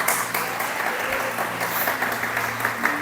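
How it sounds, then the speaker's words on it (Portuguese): A church congregation applauding during a worship service, steady sustained clapping from a crowd over a hum of room noise, continuing evenly for the whole stretch without pause. "Vamos aplaudir Jesus bem forte."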